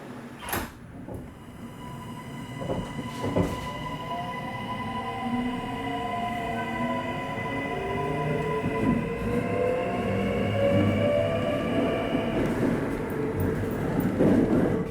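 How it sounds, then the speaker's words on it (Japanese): Kintetsu Hinotori limited express train 767 pulls away from the platform, heard from inside: doors clunk shut with brief knocks, then motor whine rises in layered tones that climb in pitch as the train steadily accelerates. "そして17時25分になり、火の鳥767列車の発車です。"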